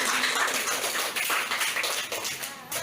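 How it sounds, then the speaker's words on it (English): An audience at a class debate applauds the proposition and opposition teams, producing a steady wash of dense clapping that holds at an even level for about three seconds with no voices over it. "Let us now give a big round of applause to the proposition and opposition team."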